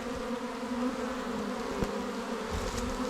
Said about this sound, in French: les abeilles sont là